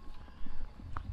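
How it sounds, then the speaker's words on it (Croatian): Cowbells on cows grazing a mountain meadow on Veliki Kozjak in Velebit ring faintly and sparsely over soft low thuds, with one clearer bright clang near the end. "Čujete, zvonjavu, krave se pasu i tako."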